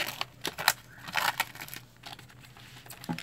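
Plastic packaging on an art supply haul is handled and pulled off, giving a few seconds of close, irregular crinkling and crackling bursts with no talk.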